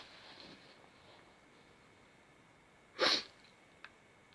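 A single sharp sneeze from a man on a live stream, close and fairly loud against quiet background hiss, followed by a faint sniff.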